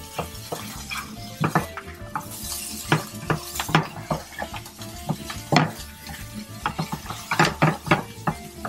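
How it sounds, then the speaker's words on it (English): Capers tipped into a pan of rich golden onions for paccheri al salmone, with a spoon stirring and clinking against the pan over a soft sizzle in an irregular run of scrapes and taps. "the onion, the rich and golden, you know, I'm gonna add some capers"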